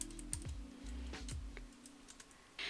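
Python code being typed on a computer keyboard: a short run of close, crisp key clicks with a few heavier strikes, irregular in rhythm, then a brief final clatter.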